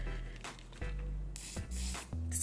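Short hissing bursts of hairspray are sprayed onto hair while styling a half-up ponytail, several quick close puffs with brief pauses between them.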